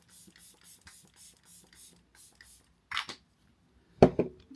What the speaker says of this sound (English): I'm gonna go with this setting spray first.